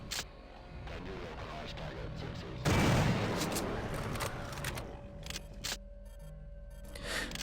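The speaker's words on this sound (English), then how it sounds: "I don't really have much use for the shotgun from here on out, so I figured I'd go through my ammo on this guy." Shotgun blasts in System Shock 2, a loud burst of gunfire near the middle, followed by scattered sharper shots over steady game ambience.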